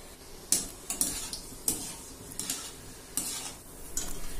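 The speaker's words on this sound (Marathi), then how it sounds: "काजू देखील आपले छान फ्राय करून झालेले आहेत" Cashew pieces fry in oil for poha chivda, a soft sizzle under repeated sharp clinks and scrapes of a spoon against the pan, coming in uneven strokes about every half second, with no talking.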